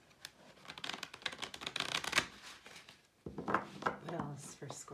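Tarot cards are shuffled up close in two quick, riffling bursts split by a short pause, and a voice briefly talks over the second burst.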